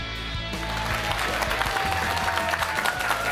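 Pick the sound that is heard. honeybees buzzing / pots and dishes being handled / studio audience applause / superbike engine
studio audience applause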